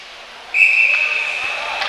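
Referee's whistle at an ice hockey game, a single sustained shrill blast that starts sharply and holds steady for over a second against arena ambience.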